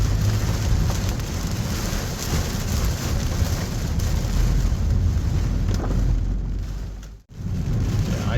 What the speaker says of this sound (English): It's now pouring again here.